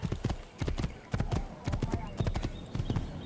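A horse in the Assassin's Creed video game gallops with rapid, rhythmic hoofbeats pounding steadily up close, layered with game ambience while people talk over it.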